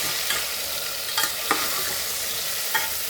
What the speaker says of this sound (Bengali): এবার আমি এটার সঙ্গে হলুদ আর লবণ দিয়ে কিন্তু আমি আলুটাকে ভালো করে ভাজা করে নেব